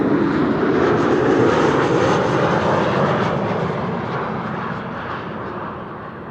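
An Air France Embraer jet flying a KLM arrival into Amsterdam Schiphol gives a broad, steady engine roar that is loud and close, then slowly fades toward the end.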